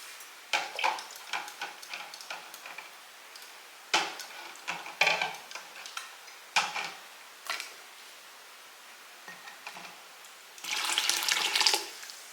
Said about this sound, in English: I'm just going to dip it in the hot water.